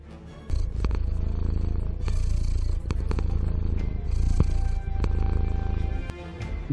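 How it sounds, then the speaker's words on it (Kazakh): A domestic cat purring in a steady, continuous low rumble, close and fairly loud, with a few faint clicks and small shifts in intensity along the way. "Мысығы бар болғандар біледі, мысықтар кейде пырылдайды"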